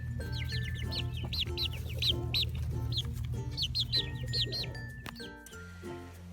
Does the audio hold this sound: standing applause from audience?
no